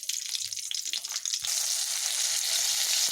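Tomatoes roast and sizzle in a hot pan for a Tamil-style dried anchovy (nethili karuvadu) curry, a steady close frying hiss that grows louder and denser halfway through, with no voices.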